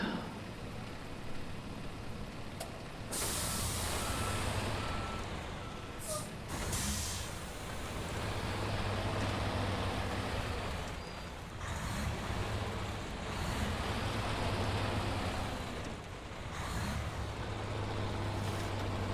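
A heavy truck in the SnowRunner game rumbles steadily with its engine noise, broken by a few sharp hissing bursts that come and go over about twenty seconds.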